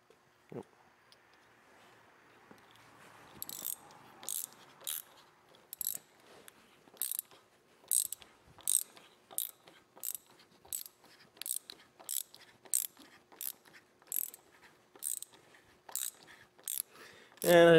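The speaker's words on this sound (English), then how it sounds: "now about where I want the reamer to set when I'm done doing this hole" A reamer cuts a hole for a brass taper pin, producing a run of sharp regular ratcheting clicks in a steady rhythm, about two per second, close and fairly loud after a quiet start, with no talk.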